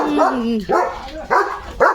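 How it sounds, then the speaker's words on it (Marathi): A dog barks four times in a steady rhythm, close and loud, each bark slightly whiny and drawn out. "तो असं रोज भुंकत राहणार का"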